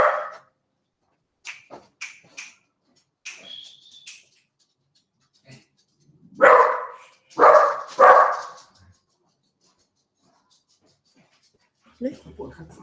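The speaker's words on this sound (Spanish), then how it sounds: "el perro se puso a ladrar" A dog barks three times in loud, close bursts mid-way, with fainter yips and whimpers scattered before and a short noise at the end, in an otherwise quiet indoor room.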